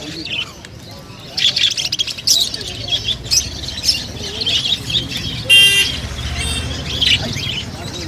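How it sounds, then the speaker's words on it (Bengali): Lutino cockatiels at a bird market give bursts of shrill chirps and squawks among other birds, over background traffic and voices. "আর এই ককটেল লুটিনোটা"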